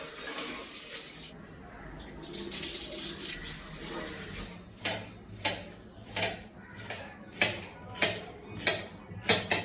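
Rice is washed under a running tap while cooking prawn biryani: steady water flow splashing near, then a series of sharp rhythmic swishing sloshes as the grains are rinsed.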